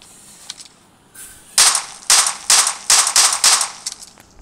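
Gunfire in the mobile shooter PUBG Lite, a rapid series of about seven sharp, loud shots in quick bursts after a few faint clicks, with no talking.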